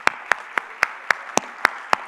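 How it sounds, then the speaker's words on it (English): At an awards and recognition lunch, sharp claps land in an even, regular rhythm, about nine in two seconds, close and distinct over a faint room background. "Let's give them another round of applause."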